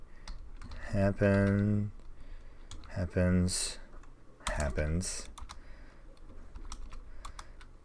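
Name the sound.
typing on a computer keyboard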